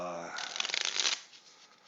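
Cards from a Warfighter WW2 tactical card game being shuffled, a quick burst of riffling flutter close to the mic, following a brief spoken word.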